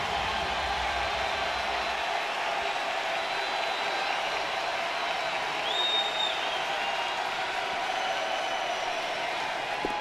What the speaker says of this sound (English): The crowd comes to full throat.